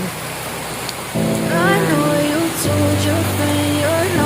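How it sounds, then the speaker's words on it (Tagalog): Constant rain hiss runs throughout, and after the first second a melodic tonal sound, like music or a sung line, rises over the downpour. "Uuwi na ako maya pag humihinto na tong ulan."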